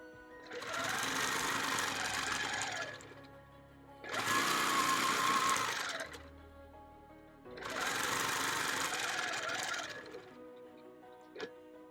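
Sewing machine stitching a bird quilt panel, three loud, close bursts of rapid steady whirring and ticking, each about two seconds long and separated by short pauses, ending with a single light click.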